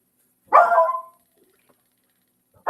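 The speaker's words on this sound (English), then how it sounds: "I don't know why my dog's barking." A single dog bark burst near the start, loud and close, followed by quiet and the onset of another bark at the very end.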